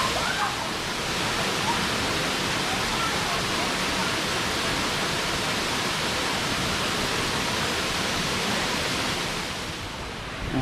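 Erawan waterfall in Erawan National Park, Thailand, roars as a loud, steady broadband rush of falling water, constant and close for the whole stretch with no letup.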